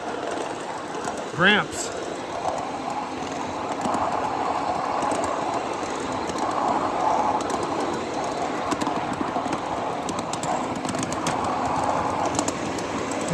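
A miniature ride-on train rolls along steel rails at Train Mountain during an evening run, with a steady low rumble and clatter of wheels throughout, a short whistle-like chirp early on, and a voice speaking briefly.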